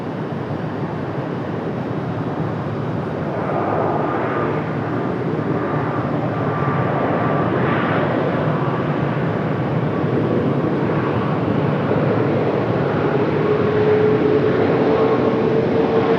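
A FedEx heavy jet comes in to land on runway 23 right at Raleigh-Durham International Airport, a loud, sustained engine roar that holds steady and slowly builds, with a thin whine rising near the end.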